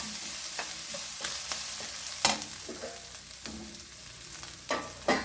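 Jackfruit thoran masala is stirred in a hot pan, with a soft continuous sizzle broken by a series of sharp scraping and clattering strokes of the spoon, a few louder than the rest.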